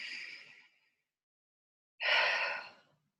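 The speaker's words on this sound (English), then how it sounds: "Take a deep breath." Two deep breaths, a long exhale fading out, then after a second of silence a strong, close inhale-exhale, calm and unaccompanied by speech.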